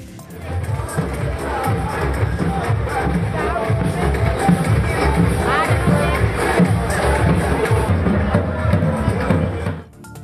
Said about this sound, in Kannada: ಎಲ್ಲೆಡೆ ರಾಮನಾಮ ಜಪ ಜೈಕಾರ ಜೋರಾಗಿತ್ತು